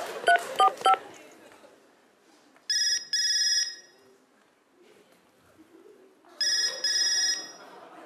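A mobile phone plays short dialing-tone beeps, followed by two bursts of ringing tone separated by quiet gaps. The tones are clear and close with little else behind them.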